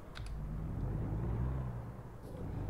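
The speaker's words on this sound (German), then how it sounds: "Was ich sehr geil finde, ist der Sound von dem LKW." A truck engine in American Truck Simulator drones low and steady, a continuous deep rumble with no talk over it.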